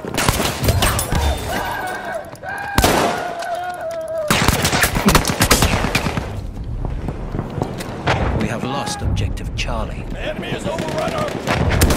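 Machine gun fire in the Battlefield 1 video game, heavy bursts and booming battlefield gunfire running through the whole stretch, with voices talking over the combat.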